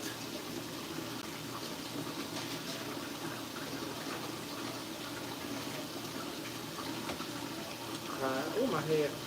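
Water drains out of a kitchen sink with a steady gushing rush throughout, and a voice briefly joins near the end.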